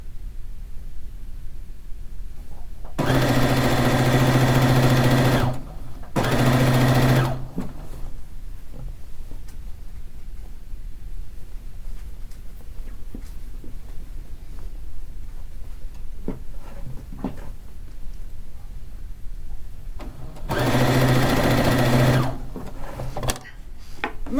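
A sewing machine stitches pieces of a fish quilt in two close bursts, one longer and one short, then runs again briefly after a long quiet stretch with faint handling noises.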